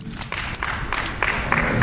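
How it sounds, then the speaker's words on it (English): Audience at an academic conference breaks into applause, a dense burst of many hands clapping close by for a couple of seconds. "Come and let's clap for him."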